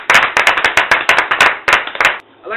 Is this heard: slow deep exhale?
no